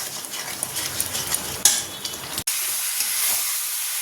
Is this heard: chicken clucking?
no